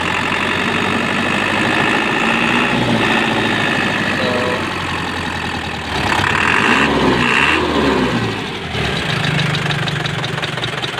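An Isuzu 4JJ1 truck diesel engine with an overheating radiator runs steadily at idle throughout, with a low rumbling drone and a brief surge in revs partway through.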